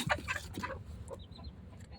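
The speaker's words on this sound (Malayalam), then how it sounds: "ഇതാ നമ്മളൊരു ഗ്രാം കോഴി അടയിരിക്കുന്നുണ്ടേ" A brooding Gramashree hen clucks in short low bursts at first, then settles into soft, faint murmuring with a few thin chirps in the background.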